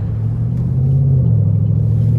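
A 2012 Chevrolet Camaro Convertible 2SS rumbles steadily while driving, its deep, continuous engine drone loud and close throughout, with no talking.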